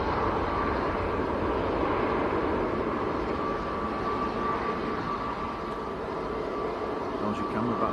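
A TUI airliner bound for Alicante passes near Manchester Airport, sending a loud, steady, unbroken jet roar that holds at an even level throughout.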